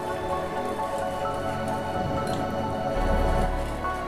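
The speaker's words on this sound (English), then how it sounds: "So you need to keep whisking it till you get a little of thick consistency." Eggless pancake batter being whisked in a bowl, a steady wet squishing and dripping churn that runs continuously and fairly close, growing slightly louder toward the end.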